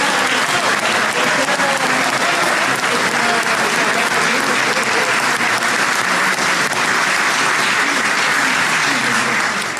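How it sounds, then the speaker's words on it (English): A packed arena crowd gives NBA legend Jerry West a standing ovation, with loud, dense applause and cheering that holds steady for the full span. "He's worth a stand ovation."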